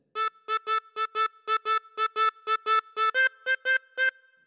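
A theme phrase played on harmonica as a run of about sixteen short, evenly spaced reedy notes in a steady rhythm, with the last few pitched higher, clean and alone with no talking.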